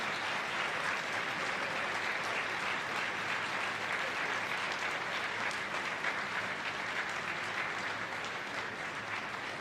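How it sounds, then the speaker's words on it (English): Football stadium crowd at a women's Super League match, Tottenham Hotspur against Liverpool, applauding a substituted player leaving the pitch, a steady, distant wash of clapping that holds evenly throughout. "As Mia Enderby receives a round of applause."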